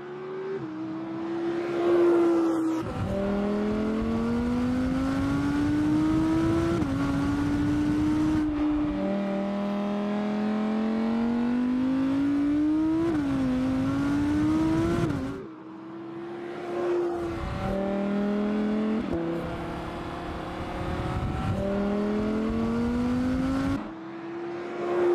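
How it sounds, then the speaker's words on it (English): A 2023 Audi R8 V10 GT RWD's 5.2-litre naturally aspirated V10 roars continuously at high revs, pitch climbing through gears, dropping briefly, then climbing again; loud and close with no voices. "V10 engine produces 620 horsepower and the sound is amazing"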